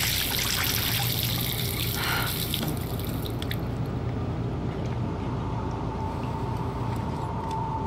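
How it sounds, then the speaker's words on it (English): Water runs and splashes at a bathroom sink in Life Is Strange, a steady close rush that thins out partway through, with no talking over it. "She says she's gonna splash some water."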